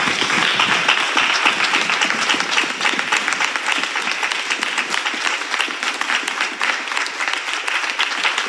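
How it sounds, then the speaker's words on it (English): A church congregation claps and applauds together, a dense, loud, continuous patter of many hands that carries steadily throughout with a faint voice underneath. "Clap hands"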